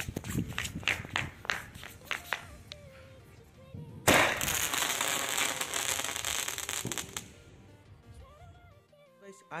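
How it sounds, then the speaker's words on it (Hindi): Vanita brand laser show sky shot fireworks fired for Diwali: a run of sharp crackling pops and bangs, then a sudden loud burst of dense sustained crackle and hiss lasting several seconds before fading, nearby and outdoors. "अब जलाते हैं वनीता ब्रांड के लेजर शो स्काई शॉट को"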